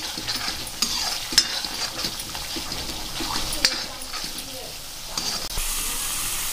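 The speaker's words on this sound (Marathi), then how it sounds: "इथे आपला छान प्रकारे मसाला फ्राय होतोय" Masala frying in a pan for butter matar paneer, a continuous close sizzle broken by repeated scraping strokes of a spoon stirring through it.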